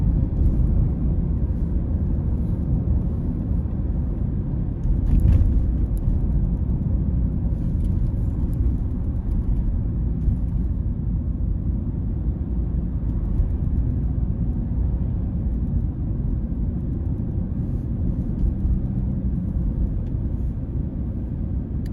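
Steady low rumble of a car's interior while driving along a 30 mph town road, a constant engine and road drone filling the whole stretch with no voices.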